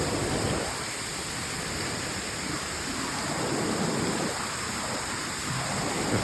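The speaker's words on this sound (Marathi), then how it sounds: "आले आपण आता धबधब्याजवळ. थोडंफार पहा धबधबा." A waterfall roars in a steady, dense rush of water that stays constant throughout, loud and enveloping with no voices.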